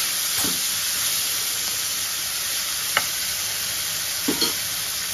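Tomato frying in a pan for a rice dish sends up a steady, close broadband sizzle, with a few soft stirring scrapes breaking through it.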